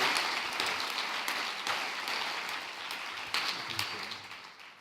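Audience applause at the 2015 Cérémonie des Lumières award ceremony, a steady, moderately faint wash of many hands clapping with scattered sharper claps, sustained throughout.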